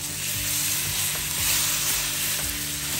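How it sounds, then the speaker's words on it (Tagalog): Loud, dense sizzling from a pan sautéing the base for ginataang kalabasa at sitaw, a squash and string bean coconut-milk dish, with a steady hiss and occasional soft stirring knocks, close and without voices. "Gigisahin ko lang siya o lulutuin ng mga 3 to 4 minutes."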